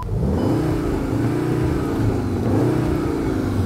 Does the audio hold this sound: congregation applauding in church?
no